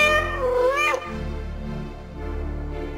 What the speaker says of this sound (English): Is this your cat?